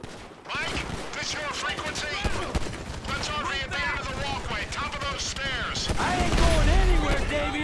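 Rapid gunfire from Grand Theft Auto V rattles almost continuously for several seconds, with dense overlapping shots and game effects, loud and sustained.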